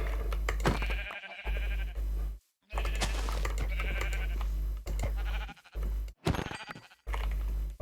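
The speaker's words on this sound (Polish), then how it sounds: "O, owce." Sheep bleating in the Minecraft video game, version 1.15.2, several repeated bleats with short silent gaps between them, loud and close over a steady game background.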